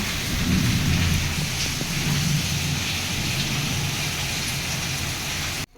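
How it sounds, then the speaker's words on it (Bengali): Heavy rain pours in a dense, steady roar during an afternoon storm, with thunder rumbling low underneath throughout before the sound cuts off abruptly near the end. "আর এই দেখো প্রবল হারে বৃষ্টি।"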